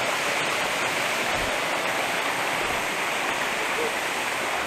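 The waterfall at Aurapani rushes in a loud, steady broadband roar, close and constant throughout with no break.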